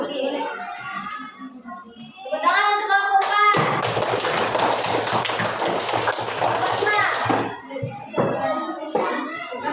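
Primary school children in an Indonesian classroom clap together in a loud, dense burst lasting several seconds, with voices chanting and talking before and after.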